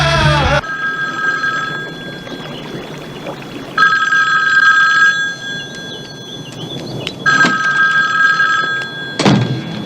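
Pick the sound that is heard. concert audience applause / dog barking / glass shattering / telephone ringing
telephone ringing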